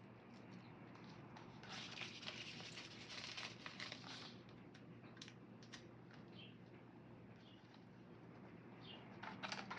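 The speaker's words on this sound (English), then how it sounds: "there's a little happy bird chirping outside if you can hear him" Faint birdsong chirps come and go over a steady low hum of background noise, distant and quiet.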